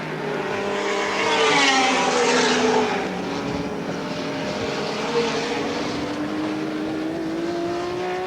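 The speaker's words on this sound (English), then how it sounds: "Here comes Johnson down the inside, gets balked by a slower car" Touring cars racing at Lakeside International Raceway in the 1984 ATCC on a drying track, with loud engine roar passing close and rising and falling pitch as cars accelerate and shift, heard alone.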